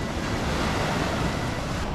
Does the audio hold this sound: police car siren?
no